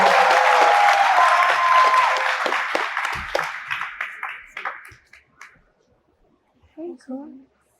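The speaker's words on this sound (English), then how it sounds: "Come on, everybody give him a round of applause." A live audience breaks into a round of applause for a guest: dense clapping starts loud, thins out and fades over several seconds, and a few brief spoken words follow near the end.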